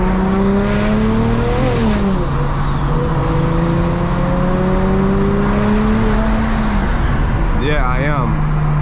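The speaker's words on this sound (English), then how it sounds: "I just like the way it sounds when I let off the gas when I shift." A 600hp single-turbo BMW 335i accelerates hard through several gears from inside the cabin, the engine note climbing and dropping sharply as the throttle lifts between shifts, with a sustained loud drone throughout.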